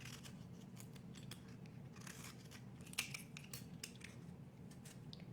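A vegetable peeler strips the skin from a butternut squash in a quiet kitchen, making faint, repeated scraping strokes in a steady rhythm over low background hiss.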